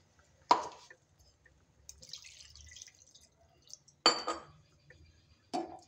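Water poured into a mixer jar holding leftover ground masala for a soybean curry, heard as a few short splashy bursts with clinks of the jar and utensils, separated by quiet gaps.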